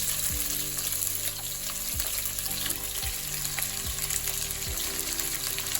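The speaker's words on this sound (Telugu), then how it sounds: "ఇది కొద్దిగా ఫ్రై అయిన తర్వాత చికెన్ వేసేస్తున్నాం" Chicken pieces frying with green chillies in a pan, a loud, steady sizzle broken by regular scraping strokes about once a second, with no talking.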